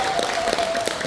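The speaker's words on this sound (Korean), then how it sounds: "박수 한번 보내주시고요." An audience at a Korean political talk concert claps in a brief, dense patter of hands, with a voice's sustained tone running underneath.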